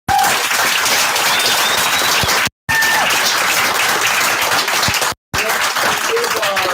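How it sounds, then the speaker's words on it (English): Loud, sustained audience applause at a karate tournament, many people clapping together in a thick continuous roar, briefly broken twice by abrupt cuts before resuming at full strength. "Let's give our scorekeeper a round of applause."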